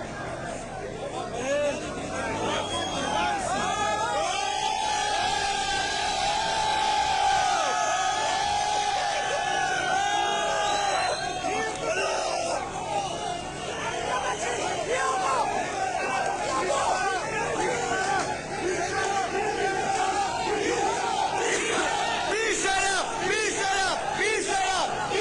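A dense protest crowd in Iran shouts and cries out continuously, many voices blending into a loud, sustained roar with whoops and bellows rising throughout.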